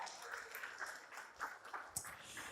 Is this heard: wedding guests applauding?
yes